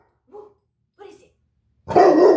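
Two short, soft vocal sounds come first, then a single loud, close dog bark bursts in near the end.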